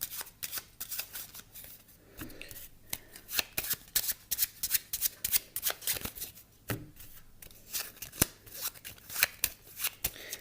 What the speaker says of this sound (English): I'm gonna shuffle my 2 piles and you're gonna shuffle yours.